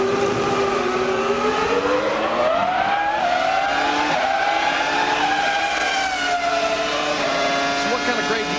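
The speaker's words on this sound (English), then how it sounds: "Let's listen as Jeff gives it some stick" A race car engine climbs and falls in pitch as the car accelerates hard on a track, a loud, steady, sustained drone with no pauses.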